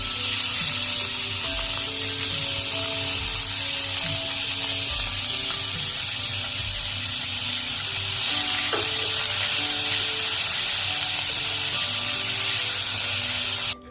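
Finely chopped onion with crushed garlic cloves hits hot oil and fries with a loud, continuous hiss and crackle, while soft background music plays underneath.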